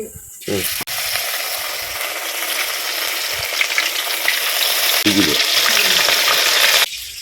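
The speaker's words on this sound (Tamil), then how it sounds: "மீன் பொரிக்கிறேன்" Steady crackling sizzle of small fish frying in hot oil with curry leaves, loud and continuous, with brief stirring clatters near the start and end.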